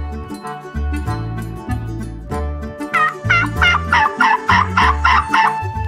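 A turkey gobbles loudly and close by, a rapid warbling burst of repeated throaty notes following a lower, buzzing call.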